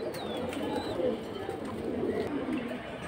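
Fancy pigeons kept for sale coo softly and repeatedly at close range, their low throaty calls over a faint busy background.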